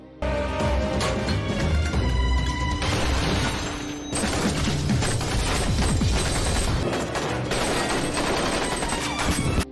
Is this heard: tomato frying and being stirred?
no